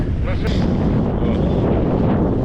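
Strong wind roars steadily and buffets the microphone on a snowy dawn during a fishing trip, a dense low rushing noise with no letup.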